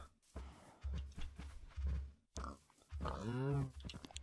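Farm animals heard loud and close, with short grunting and snorting bursts, a gap of near silence, then a longer squealing, drawn-out call with a rising and falling pitch, in a ranch-style setting with pigs and cattle.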